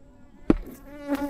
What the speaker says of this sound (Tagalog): may insekto